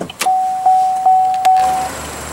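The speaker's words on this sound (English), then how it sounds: "Automatic driver's side window." A power window motor on the driver's side of a 2015 Chevrolet Cruze, which has a 1.4 L turbo four-cylinder, hums steadily for about one and a half seconds, close and fairly loud, with a few short chime beeps over it.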